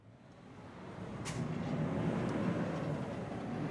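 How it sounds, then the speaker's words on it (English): A commuter train passes along a city street lined with crawling semi-trucks, a steady broadband rumble that swells and holds fairly close, with a brief hiss partway through and no talking. "semi-trucks crawl the street and a commuter train zips by"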